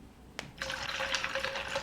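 250 ml of fizzy juice is poured hard into a cocktail, a steady splashing, fizzing stream starting after a brief click and running continuously to the end.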